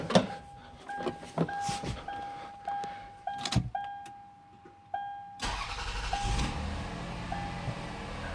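A Lexus RX300 is started with the ignition key: a few short chimes and clicks, then the starter cranks and the engine catches near the end, settling into a close, steady idle.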